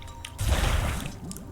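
A short watery splash and slosh in Wytchwood as water is scooped up, a brief close burst of liquid lasting about half a second before fading into quiet.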